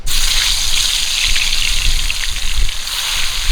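Pieces of katla fish dropping into hot oil in a wok, giving a loud, close, steady hiss and crackle that starts abruptly and keeps sizzling throughout.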